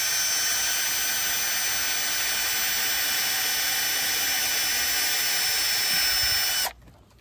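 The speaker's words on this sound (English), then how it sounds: "So we're drilling a pilot hole into the wood to keep from splitting it." A power drill whines at high speed, loud and steady, as it bores a 5/64 pilot hole into wood, then stops abruptly near the end.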